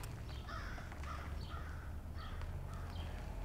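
Several faint, somewhat distant crow caws repeat at a loose rhythm over a low, steady background rumble.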